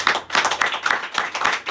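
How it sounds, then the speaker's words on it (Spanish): A short burst of brisk, steady clapping from a church congregation, an even patter of many hands without voices. "Denle un aplauso a nuestro Dios."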